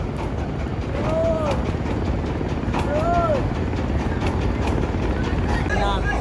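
A large passenger launch reverses away from the ghat at Barishal, its engines droning steadily and close. A few rising horn-like whistles sound over the rumble.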